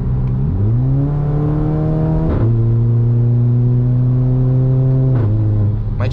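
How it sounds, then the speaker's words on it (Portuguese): Volkswagen Jetta TSI with a loud aftermarket exhaust revving in short bursts, the engine note rising sharply, holding a steady elevated drone, then dropping back, with crackles between revs, close and loud, no talking. "Vamos dar uma acelerada aqui, ó."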